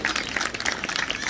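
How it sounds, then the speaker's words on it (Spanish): Parents clapping and cheering at a school event, a dense burst of applause from a crowd, close and lively throughout. "Ese aplauso, papás,"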